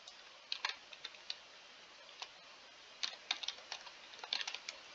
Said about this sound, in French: J'appuie sur la touche Entrée de mon clavier.